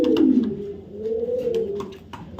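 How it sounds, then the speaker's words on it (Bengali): Green-neck Hungarian Budapest racing pigeon cooing close by, a steady low warbling coo that swells and fades over a couple of seconds, with a few faint clicks and rustles in the background. "এটা গ্রিন নেক হাঙ্গারিয়ান বুদাপেস্ট কবুতর"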